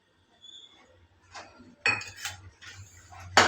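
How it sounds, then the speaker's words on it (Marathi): A metal spoon clinks against a bowl while adding ghee to wheat flour, with a few light scrapes and taps, quiet and close, then a sharper clink at the end. "आपण 1 चमचा तूप टाकूया पिठामध्ये।"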